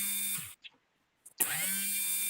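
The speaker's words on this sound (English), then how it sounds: "Sounds like a drill." A power drill whines loudly and steadily, stops for almost a second with a few faint clicks, then spins up again and keeps running.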